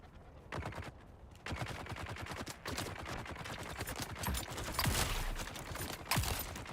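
A weapon fires in a Dune video game, letting off rapid, sustained automatic bursts of sharp shots with brief pauses between volleys, fairly close and loud.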